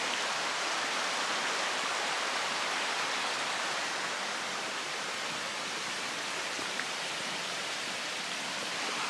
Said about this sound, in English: There's a brook over here